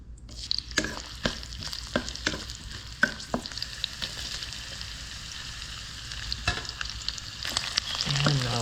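Garlic frying in reused cooking oil gives a steady, close sizzle, with sharp clicks and scrapes from stirring scattered throughout and a brief rise in hiss near the end.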